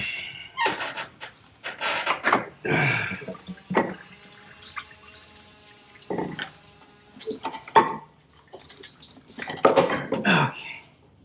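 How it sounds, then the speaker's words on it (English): Coolant splashes and drips from a Lexus ES300 onto the floor, heard as a run of irregular close wet patters and trickles, some louder splashes among softer drops. "You're gonna hear some coolant fall onto the floor."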